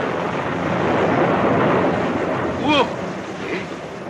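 Rain falls steadily in a dramatized storm scene, a dense hiss that swells and then holds, with a brief sharp crack of thunder near the end.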